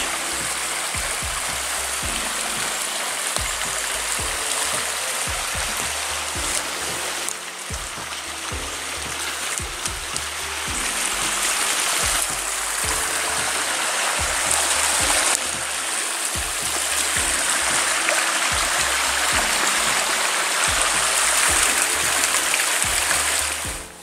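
Steady rushing water of a stream flowing close by, a constant broadband gurgle with slight shifts in intensity and no voices.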